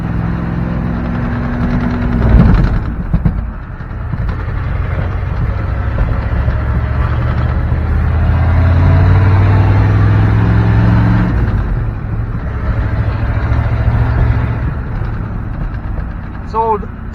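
A Ford 7.3 IDI turbo diesel pickup does a brake-held burnout, its engine droning loud and steady under excited talk, swelling to a sustained roar midway as the tires spin.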